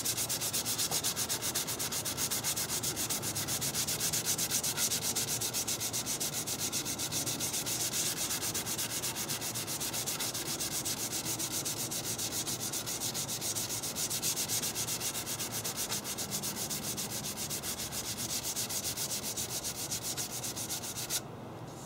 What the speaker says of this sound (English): And for most of it, I'll be using the sander head.